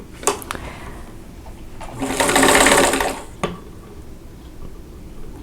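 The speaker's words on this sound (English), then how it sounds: "I'm going to sew from this corner to this one." A sewing machine stitches a seam on a quilt block in one short, fast whirring run of about a second, with a few soft clicks and handling noises around it.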